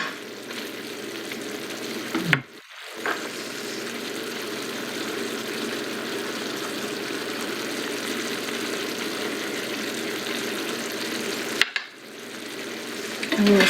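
Gravy sizzles in a frying pan while being stirred, a steady close frying hiss broken by two brief clattering interruptions of pan and utensil.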